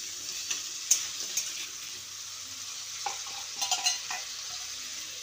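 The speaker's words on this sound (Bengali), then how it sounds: "এবার আলুটাকে ভালো করে নেড়ে চেড়ে বাদামি করে ভেজে নিতে হবে।" Potatoes sizzle steadily in oil in a pan while a utensil stirs them, with occasional soft scrapes and clinks over the constant frying hiss.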